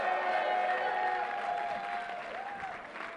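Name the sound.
audience applause for the governor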